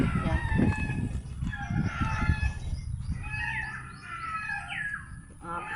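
Several roosters crow over a steady chorus of clucking hens, with small birds chirping faintly in the background; busy and fairly close.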